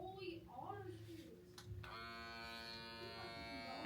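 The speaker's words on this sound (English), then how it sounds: "It's not an air sucker, a vacuum jar sealer." Small electric vacuum jar sealer runs with a steady buzzing hum that settles into a constant drone, close and fairly quiet, with a person talking over it early on.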